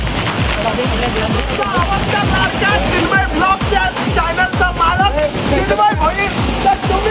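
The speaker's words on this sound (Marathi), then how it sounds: "गोगाला धबधबा एवढ्या वरनं पाणी पडते" Ghogata waterfall near Gunjgaon, water plunging from a height, makes a steady, loud, close rushing roar throughout while someone talks over it.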